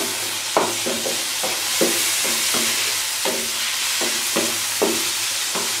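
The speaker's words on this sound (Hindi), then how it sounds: "प्याज अच्छा खासा पक गया है, अब मैं इसमें ये टमाटर शामिल कर दूँगी" Tomatoes stirred into well-cooked onions in a pan for a spicy onion sabzi, giving a steady sizzle under repeated spoon scrapes that come every half second or so, close and even throughout.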